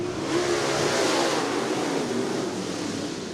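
Late model race cars roaring off at the green flag of a heat race at Cottage Grove Speedway, a loud dense wall of engine noise sweeping past without a break.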